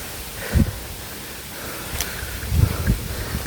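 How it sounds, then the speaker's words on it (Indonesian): Strong wind on Gunung Sembung mountain, a steady broadband rush with low gusty buffets hitting the microphone in bursts, loud and close. "Anginnya kencang sekali ya."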